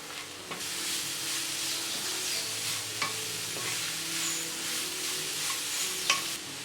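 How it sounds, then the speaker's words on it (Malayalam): Grated carrot stirred and sautéed in a pan for carrot rice, with a continuous soft sizzle and scraping stirring strokes, including a few sharper clinks of the spoon against the pan. "ക്യാരറ്റ് ചേർത്തതിന് ശേഷം 2-3 മിനിറ്റ് നല്ലതുപോലെ വഴറ്റി കൊടുക്കണം."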